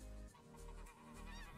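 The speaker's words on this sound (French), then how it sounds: "Donc là c'est des oies des neiges." Snow geese honk in a hunting video game, a short burst of several overlapping nasal honks from a flock, faint and compact.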